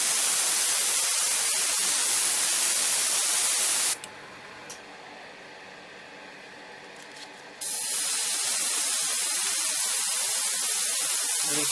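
A spray can hisses in two long continuous bursts while a plastic model kit is painted, loud and close, with a short quieter gap between them.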